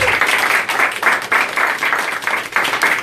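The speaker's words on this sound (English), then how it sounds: "Big round of applause for Cami." An audience applauds a speaker at a live event, with sustained clapping from a crowd at steady, fairly close volume for about three seconds.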